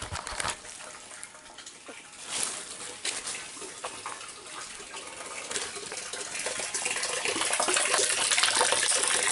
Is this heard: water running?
yes